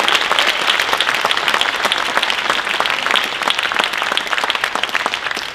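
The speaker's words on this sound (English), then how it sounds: "we'll just give you a round of applause in your absence" Audience applause at a fellowship recital, steady dense clapping from a crowd that holds evenly throughout without voices on top.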